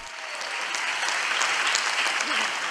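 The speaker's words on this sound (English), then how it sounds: "I have to pause for a moment for the applause because it gives me a chance to breathe." A large audience at a papal address in Assisi, Italy claps in sustained, dense applause that swells slightly and then holds steady throughout.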